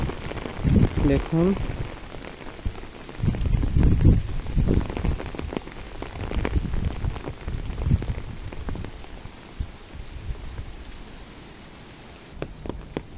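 Rain falls steadily on a brimming village pond where ducks play, a soft pattering hiss throughout while a voice speaks over parts of it.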